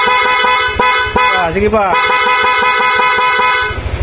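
A newly installed dual horn on a Yamaha Nmax scooter sounds in several loud, close honks of varying length, with someone speaking briefly between the blasts.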